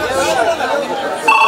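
A telephone rings during a live Kannada social stage drama, a short electronic ring sounding amid loud overlapping chatter and speech.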